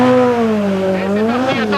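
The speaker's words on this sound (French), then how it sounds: "Ça part vite avec une 4 roues motrices" A four-wheel-drive rally car launching on snow at the 1986 Monte Carlo Rally, its engine note loud and close, rising then wavering as revs climb and the tyres scrabble for grip.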